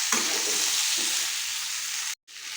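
Mango pieces with spices are stirred in a hot pan for a jaggery pickle, giving a dense, even sizzling hiss with light stirring scrapes, broken by a short silent gap near the end.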